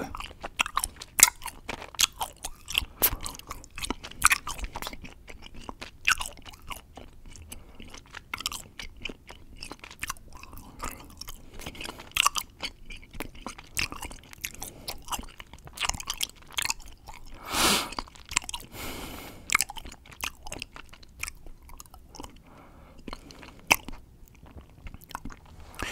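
Close, intimate chewing of Hi-Chew chewy fruit candy, with wet, sticky squishes and occasional crunchy bites in an irregular rhythm, heard alone without talking.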